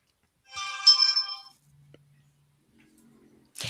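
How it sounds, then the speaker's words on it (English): Phone ringtone plays a bright, tonal melody for about one second, fairly loud and close, followed by quieter low murmurs and a burst of noise at the end; a podcast-style conversation setting. "My phone's going crazy."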